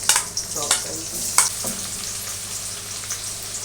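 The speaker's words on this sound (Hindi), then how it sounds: "मैं इसके अंदर प्याज, मैंने जो एक प्याज ली थी वो मैं इसके अंदर डाल रही हूँ, चॉप करी थी।" Chopped onion drops into roasting mince and fries in the pan, with a few sharp clatters of stirring at the start over a continuous sizzle that settles into a steady hiss.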